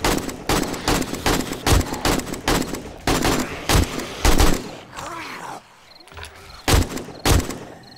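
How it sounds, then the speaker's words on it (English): Rapid AK rifle fire in the 7 Days to Die game, loud close bursts of sharp repeated shots in quick rhythm, with a brief pause before a few more shots. "Let's do the little AK."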